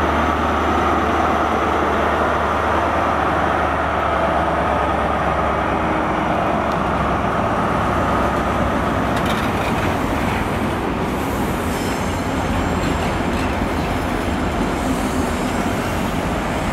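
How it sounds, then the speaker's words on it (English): A passenger train with diesel power cars 43149 and 43185 rumbles past close by at Cardiff Central, with a steady, loud diesel roar and rushing wheel noise that holds for the whole stretch. "Power car 43149 on the front and 43185 is on the rear of the train."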